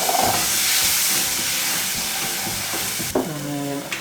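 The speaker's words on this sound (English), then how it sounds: "Nice sizzle on there." Ginger and garlic sizzle steadily in a pan with coconut milk close by, a loud continuous frying hiss that carries through the whole stretch, with a brief clatter and tonal scrape near the end.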